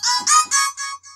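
A shouted vocal note turned synth lead, thickened by a Sausage Fattener plugin and a delay, rings out in five bright, buzzy pulses that trail off as echoes fade quieter, with no talking.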